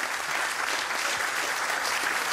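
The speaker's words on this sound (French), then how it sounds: "On peut remercier chacun de nos intervenants, les applaudir." Warm, steady applause from a conference audience thanking the panel speakers at a closing session, an even wash of many hands clapping without any voices on top.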